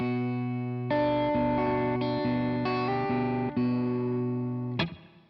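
Sustained electric guitar chords through a compressor ring out smooth and even, changing several times, with a soft reverb tail and a final scrape on the strings.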